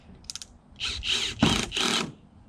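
A cordless drill drives screws into a kayak mounting plate for an Old Town Sportsman AutoPilot kayak: a few clicks, then three short whirring bursts of the motor, close and moderately loud.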